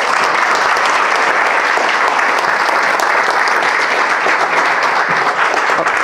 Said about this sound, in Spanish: un aplauso para cada uno de nosotros de aquí